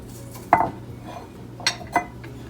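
Chopped onions going into a bowl to start a gram flour (besan) batter, heard as three sharp clinks of a utensil against the bowl: one louder knock, then two lighter taps, close and clear, with no talking.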